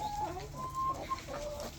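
Chickens in a backyard garden coop cluck and murmur nearby, a few short calls over a low steady background with no talking.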